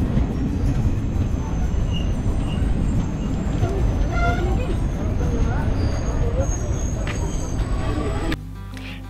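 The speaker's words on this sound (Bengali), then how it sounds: "ট্রেন এসে পড়ল।" The Howrah–Puri Superfast Express pulls into a station with a heavy, continuous low rumble and rolling clatter, with crowd babble and voices mixed in. The noise drops off abruptly near the end.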